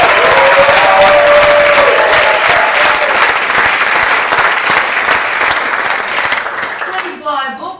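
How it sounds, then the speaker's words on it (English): Sustained loud applause from an audience at a book launch, dense clapping that holds steady and then thins out toward the end, with a voice briefly audible near the start and again as it fades. "Big round of applause once more to Judith."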